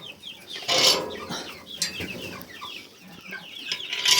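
Chickens and chicks cluck and cheep close by in an irregular chatter, with a burst of flapping wings and scattered sharper calls rising and falling over a few seconds.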